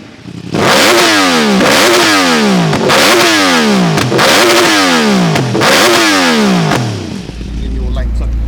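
At a roll-race drag event, a performance engine is revved hard and close-up for a sound check. It makes about six loud, rapid rises and falls in a steady rhythm before dropping to a low idle.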